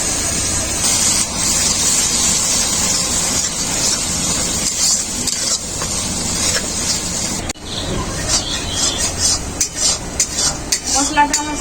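A spoon scrapes and stirs masala with tomato paste, cashew and poppy-seed paste in a pan for a rohu fish kalia, a steady close clatter over a frying sizzle, turning into sharper irregular knocks near the end.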